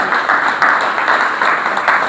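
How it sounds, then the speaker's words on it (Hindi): A church congregation claps for a newly married couple, steady dense applause filling the room, close and loud, with no talking over it. "चले तालियां बजाए इस कपल के लिए"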